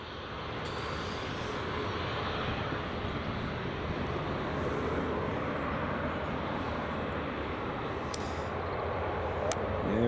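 A Ryanair airliner at Edinburgh Airport gives a steady, moderately distant engine roar that holds at an even level throughout, with no talk over it.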